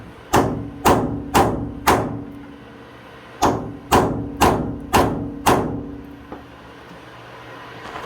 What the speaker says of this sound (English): So I'm going to get the chisel, knock this sideways, try to knock that sideways too, get it to break free